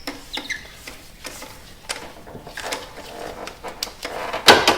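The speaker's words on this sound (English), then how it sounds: "I'll take my ratchet extension and spark plug socket, and we're going to remove each of the spark plugs" A ratchet fitted with an extension and spark plug socket clicks in short, uneven bursts while loosening spark plugs on a Dodge Neon engine, with close metallic ticks and light tool handling between strokes.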